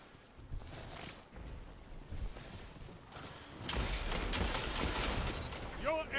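Rapid bursts of gunfire from a first-person shooter match in Destiny, loud and dense, swelling into a sustained barrage near the end, mixed with game effects.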